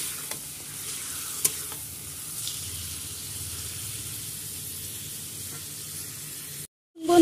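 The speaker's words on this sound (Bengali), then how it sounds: "তেলের মধ্যে আমি চিকেনটা দিয়ে দিয়েছি। এটাকে আমি ভালো করে এখন ভাজবো।" Chicken pieces fry in hot oil with browned onions, giving a steady soft sizzle with occasional stirring clicks. The sizzle cuts out briefly near the end, then a louder burst returns.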